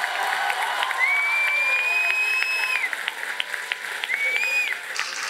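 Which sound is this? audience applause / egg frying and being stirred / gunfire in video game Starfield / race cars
audience applause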